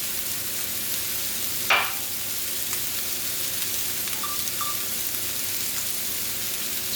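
Onion frying in a pot for corned mutton with cabbage, a steady close sizzle throughout with one sharp stirring clink near the start, no voices.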